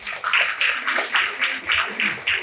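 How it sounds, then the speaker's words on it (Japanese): Applause from a breakfast-event audience welcoming a guest speaker, a run of irregular claps in quick bursts for a couple of seconds, fairly close and without talk over it. "拍手でお迎えください。"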